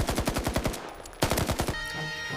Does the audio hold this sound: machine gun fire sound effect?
yes